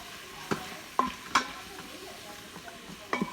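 A wooden spoon stirs spices into chicken chili in a pot, giving a few distinct scraping knocks with a soft sizzle underneath, close and moderately quiet.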